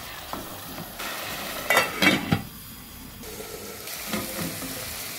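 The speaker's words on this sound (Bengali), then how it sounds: "এদিকে আমি পেঁয়াজটারে কিছু সময় কষাই আনিছি" Chopped onions with garlic, cloves, bay leaf, cinnamon and fenugreek fry in a pot for curry, giving a low sizzle broken by a few louder bursts of stirring and scraping near the middle; no one speaks.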